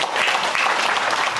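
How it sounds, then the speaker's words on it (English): A large crowd at a leadership school anniversary ceremony bursts into loud, dense applause for a woman being praised, continuous and close. "we must give her a great round of applause."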